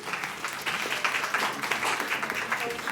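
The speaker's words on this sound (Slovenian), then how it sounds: "En aplavz zanje" A pub quiz audience applauds, dense steady clapping filling the room throughout, with a voice faintly under the noise.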